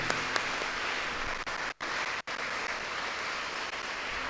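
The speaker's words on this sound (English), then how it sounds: "Maybe we should all give a big round of applause to the teachers of this school and elsewhere." Audience at a school Independence Day event applauding its teachers, dense steady clapping that fills the whole stretch with a couple of brief dips.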